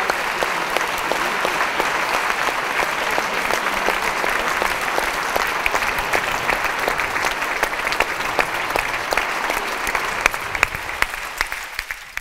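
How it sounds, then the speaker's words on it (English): Sustained crowd applause follows dance performances at a lecture on posture, balance and coordination, a thick, continuous patter of many hands that stays level for several seconds and tapers off at the end. "So I think we should give them a big round of applause."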